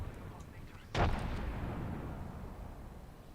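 A grenade blast in a first-person shooter: one sudden broadband boom with a sharp onset at about one second, trailing into a long rumbling decay over steady low background noise.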